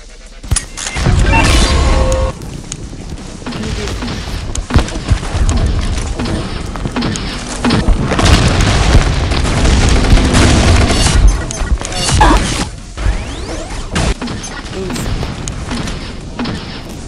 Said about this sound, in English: now we're gonna be using the Clockwork Cannon